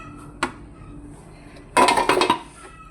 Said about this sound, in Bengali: এই পর্যায়ে এখন ঢাকনা দিয়ে ঢেকে দেব